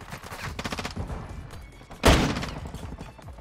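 Rapid gunfire bursts from Modern Warfare 2 multiplayer, a stuttering volley of shots followed by a sharp, loud blast with a decaying tail, then more scattered firing in the background.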